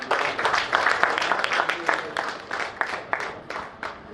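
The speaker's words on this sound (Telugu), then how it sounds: "ఒక్కసారి బిగ్ క్లాప్స్." An audience claps and applauds at a real estate developer's lucky draw meeting, with a dense, steady burst of many hands clapping at moderate distance and a voice briefly audible under it.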